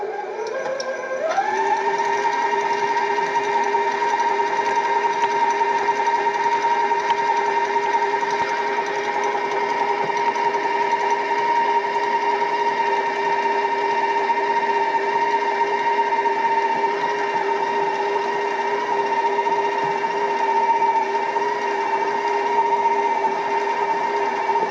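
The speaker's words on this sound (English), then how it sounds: "I'm going to get my paddle attachment on there, get these creamed" A stand mixer with a paddle attachment creams butter for a key lime pound cake, its motor spinning up within the first second into a steady, even, fairly loud whir that holds unbroken throughout.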